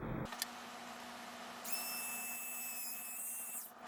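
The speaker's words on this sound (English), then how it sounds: "what we'll do here is take the drill and go" A small power drill bores into a plastic Star Trek Enterprise 1701-D model nacelle, a thin high whine starting midway and holding steady for about two seconds over a low electrical hum, fairly faint and close.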